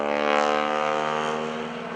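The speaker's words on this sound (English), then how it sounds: "All the sound that you're hearing from this airplane is the propeller." A Stearman biplane passes during an airshow flyby, its propeller producing a loud, raspy buzzing drone with strong steady harmonics that gradually fades slightly as it moves off.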